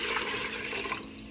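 Two quarts of vegetable stock pour steadily into a soup pot for spring minestrone, a loud, continuous rushing splash of liquid with no talking.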